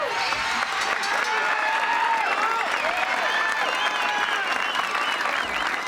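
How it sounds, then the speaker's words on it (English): A WWF wrestling arena crowd cheers and applauds loudly and continuously, with a broadcast commentator's voice carrying over the roar. "crowd on its feet, showing their approval."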